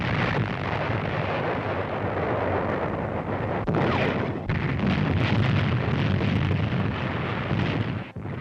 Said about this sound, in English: There's the naval station at Bizerte, being pounded by American shells.